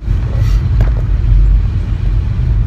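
A car on the road gives off a loud, steady low rumble of engine and tyre noise. A couple of faint clicks come near the start, and no one speaks.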